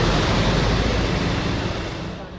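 Roaring floodwater from a glacier-burst flood in Nepal surges in a loud, continuous broadband rush, close and unbroken, easing slightly toward the end.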